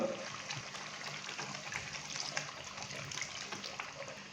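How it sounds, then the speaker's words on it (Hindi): Half a glass of water poured into chicken lababdar that has been well browned in a pan over a medium flame, a steady splashing pour with faint sizzle running close and continuous for several seconds. "अभी मैं इसके अंदर हाफ गिलास पानी डालूंगा"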